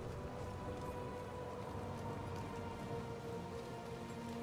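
Steady rain falls in the Diablo 4 game world, a dense even hiss of drops on surfaces continuing unbroken with no talk.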